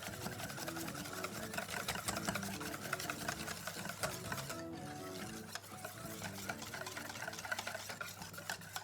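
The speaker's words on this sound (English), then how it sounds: "give it a good whisk" A whisk beats thin pancake batter with added milk in a bowl, a quiet, fast, steady clicking and rattling rhythm that pauses briefly midway before carrying on.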